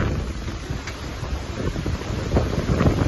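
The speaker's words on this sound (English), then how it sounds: "Violent thunderstorms swept through northern Italy this afternoon, causing massive wind gusts and damage." Strong wind gusts from a violent thunderstorm in northern Italy buffet the microphone with a steady roaring rush, swelling louder toward the end with no voices.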